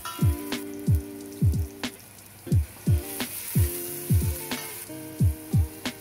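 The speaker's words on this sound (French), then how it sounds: "Faites suer cette garniture dans une casserole avec de l'huile d'olive." Onion and garlic sizzle in hot olive oil in a saucepan, with a steady soft hiss broken by repeated bubbling pops in an irregular rhythm, close up.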